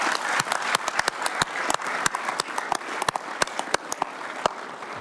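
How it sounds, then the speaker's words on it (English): Guests at a luncheon in Washington, D.C. honoring the NDSU Bison football national championship clap for an athletic director, with sharp individual hand claps standing out over a moderate, steady round of applause. "Give Matt a round of applause"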